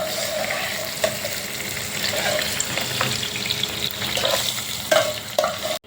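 Okra fries in hot oil in a pan, giving a dense, continuous crackling sizzle close up, with occasional utensil taps and scrapes as pieces are scooped out.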